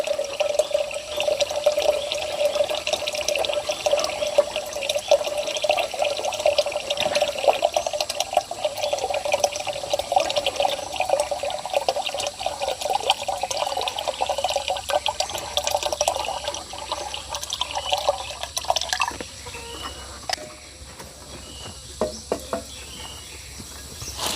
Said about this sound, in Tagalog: Mabibinyagan na ang bagong takuri. Punuin na natin para diretso natin sa thermos.